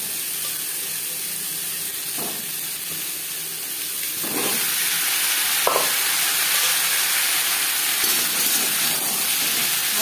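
Potatoes frying in a little refined oil for a vegetarian potato and pointed gourd curry, a steady close sizzle broken by occasional scraping stirs, getting slightly louder midway.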